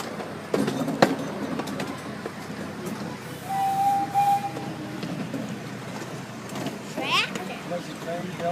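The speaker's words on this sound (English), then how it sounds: "Was the train built new for this one?" Park train ride at a county zoo, heard from the caboose, gives a steady rolling rumble with rail clatter throughout, a brief squeal partway through, and people talking over it.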